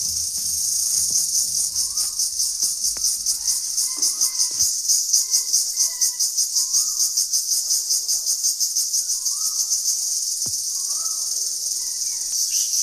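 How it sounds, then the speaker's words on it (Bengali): Crickets chirping all around outdoors in a rural setting near trees, a loud, continuous pulsing trill that runs throughout, with faint bird calls and a few brief knocks scattered beneath it. "চতুর্দিকে ঝিঝি পুকুর ডাক,"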